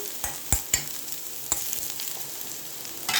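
Onions and seasoning frying in oil in a pan, a soft continuous sizzle punctuated by a few sharp clacks of a stirring utensil close by.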